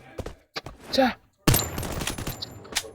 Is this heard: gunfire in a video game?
yes